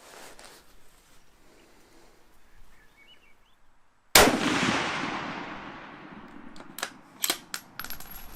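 A suppressed rifle fires once, a sharp muffled crack with a decaying tail, followed by faint metallic clicks of the action, in a quiet outdoor setting.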